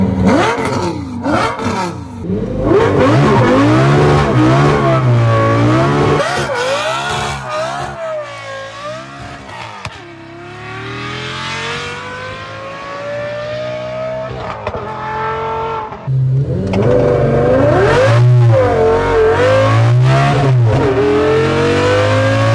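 A Volvo fitted with a Lamborghini engine revs loudly and repeatedly, its pitch climbing and falling in sweeping surges with a sustained high wail in the middle, heard up close with no one speaking.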